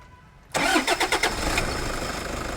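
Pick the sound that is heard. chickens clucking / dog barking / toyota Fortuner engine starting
toyota Fortuner engine starting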